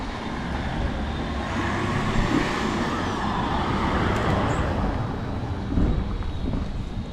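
A high four-wheel drive rolling along a potholed road in Sunny Beach, Bulgaria, with a continuous close engine and tyre rumble that swells with a couple of heavier jolts from the holes.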